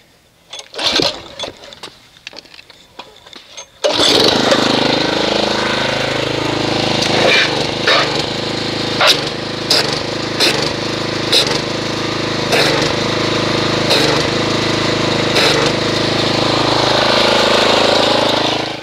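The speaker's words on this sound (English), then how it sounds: "Let me go ahead and agitate this with a pressure washer." A pressure washer starts with a sudden loud blast and keeps up a steady, harsh roar as it agitates foam, with brief bursts and shifts in the spray throughout.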